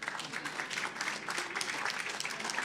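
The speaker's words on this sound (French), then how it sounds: "Ah ouais, vous pouvez l'applaudir." An audience claps for a speaker at a regional business event on a relaunch loan program in Centre-Val de Loire, a fairly dense round of applause running throughout with voices faintly mixed underneath.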